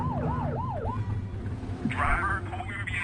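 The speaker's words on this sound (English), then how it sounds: "Get on their tail and flip the siren." Police car siren in the video game The Precinct, a wailing rising-and-falling tone for about a second, followed by other electronic siren bursts over engine rumble.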